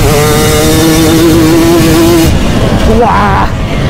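A loud 2.5-litre racing engine revving hard during a three-hour pairs race at Bergantino, pitch climbing then dropping and rising again, very close and dominating the sound.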